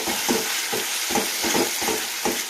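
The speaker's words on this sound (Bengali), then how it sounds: "1 মিনিট মতো নাড়াচাড়া করে নেব।" Ginger paste frying in a pan for chilli chicken, stirred with a spatula in a steady rhythm of scraping strokes over a continuous close sizzle, no voices.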